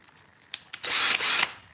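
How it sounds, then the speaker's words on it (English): A power drill set up for pocket hole joinery in 3/4 inch wood is test run: two quick clicks of the trigger, then one short steady whirring burst of about half a second, close and loud, with no talk. "Just like you do anytime you turn on drill, gotta test it."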